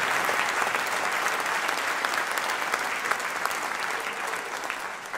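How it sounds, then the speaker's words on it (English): Audience at a city State of the City address applauding, with steady sustained clapping from a large indoor crowd lasting the whole stretch. "That's a round of applause"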